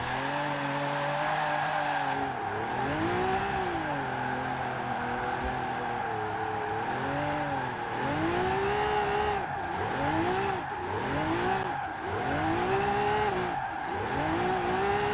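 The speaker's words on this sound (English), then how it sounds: "Let's try some roundabout drifting quickly." A Bentley 8-Litre drift build in Forza Horizon 4 sweeping round a roundabout, its engine note rising and falling in repeated surges over continuous loud tire squeal throughout.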